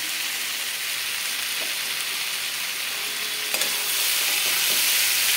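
Fried eggplant is stirred into cooked vegetables in a sizzling pan, with a steady hiss of frying and soft scraping of a spoon, one clearer clink midway.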